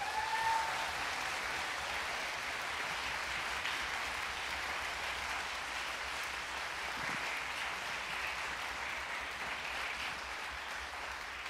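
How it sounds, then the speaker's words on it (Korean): Applause from the audience at a chamber orchestra concert of visually impaired musicians, a soft, steady, distant-sounding patter of clapping that holds for the full length without voices. "박수 좀 크게 주세요."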